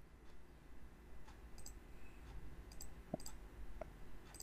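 Computer mouse clicks at a desk during PowerPoint work: a few faint, sparse clicks, including a couple of sharper double taps, over a quiet room hiss.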